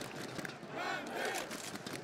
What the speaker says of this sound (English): Crowd rising for the players on the server.